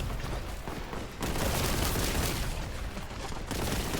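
Continuous gunfire from the Boltgun video game, a dense, sustained rattle of shots that fills the whole stretch at steady loudness, with a brief dip before the barrage swells again.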